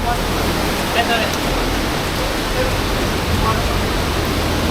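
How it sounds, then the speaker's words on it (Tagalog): The Baggao Bluewater Falls waterfall roars as a loud, steady broadband rush from close by, unbroken throughout. "at tatawid kami doon sa mismong falls para makita nyo rin ang malapitan"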